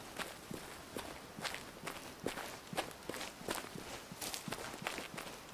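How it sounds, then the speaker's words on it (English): Footsteps running across ground in the Way of the Hunter hunting game, quick regular thuds, fairly faint and steady with no talking. "As you see, I am running on my way."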